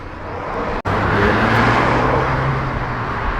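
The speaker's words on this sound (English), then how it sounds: "it drives like a new car" Porsche 930 Turbo driving on the road, heard from inside as a steady, close engine and road drone with a low hum, broken by one brief dropout early on.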